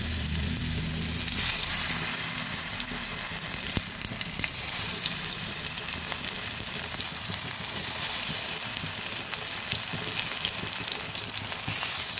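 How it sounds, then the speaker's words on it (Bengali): Coated raw banana pieces frying in hot oil in a karahi, a loud continuous bubbling sizzle with dense crackles, close and steady throughout with no voices. "এবার এক এক করে কলাগুলো ভেজে নিচ্ছি।"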